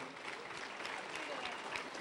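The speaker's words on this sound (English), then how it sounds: "Give Tina a nice round of applause" A head-table audience gives Tina Cassie a brief round of applause, soft, even clapping from a gathered crowd lasting a couple of seconds, heard faintly at a distance.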